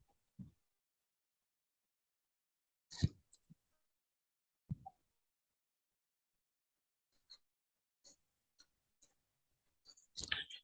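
Mouse clicks while navigating the Windows registry: isolated sharp clicks spaced out over near silence, a few louder ones early and a small cluster at the end, close and dry.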